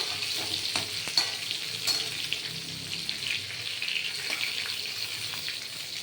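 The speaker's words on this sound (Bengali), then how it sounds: "এই পটলটাকে পুরো ভাজা হবে" Pointed gourd (potol) frying in a pan gives a steady, close sizzle throughout, with occasional soft stirring clicks and no talking.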